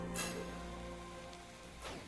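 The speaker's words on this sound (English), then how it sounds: "It's raining." Rain falls in the game Stoneshard as a soft, continuous hiss heard from a short distance. Faint musical tones sit beneath it, with a couple of brief brighter splashes.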